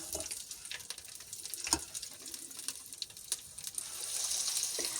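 Soft, steady sizzling of an egg-and-breadcrumb-coated fillet frying in a pan, with faint crackles and pops throughout and no talking.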